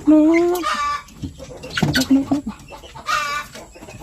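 Japanese Shamo chickens and chicks cluck nearby in several loud, uneven bursts, with a drawn-out call at the start and scattered softer clucks between.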